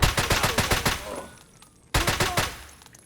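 Rapid M1A rifle gunfire in Escape From Tarkov, two close loud volleys of quick repeated shots with echoing tails, separated by a brief pause.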